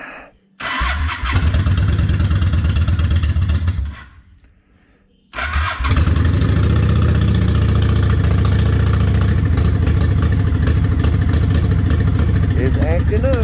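A Honda 750 Ace motorcycle engine cranks and catches with the choke pulled, stalls into a brief lull, then restarts and idles roughly on one cylinder, loud and close, with an uneven, lumpy throb throughout.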